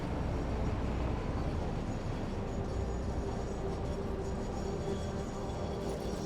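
Train in the factory-building game Satisfactory rumbling steadily on its rails, a continuous low rolling noise throughout with no voices over it.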